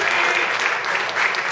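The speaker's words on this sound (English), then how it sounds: "So round of applause for Paul as well." A room at an end-of-season football awards night fills with sustained applause for Paul, dense and steady clapping from a crowd, fairly loud and close throughout the short burst.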